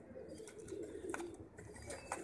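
Soft pigeon cooing close by, a few low murmuring coos over a faint steady background.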